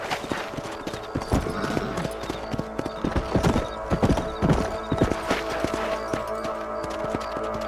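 Horse hooves clip-clop at a steady trot in the Red Dead Redemption video game, loud and near, with a neigh and game music in the background.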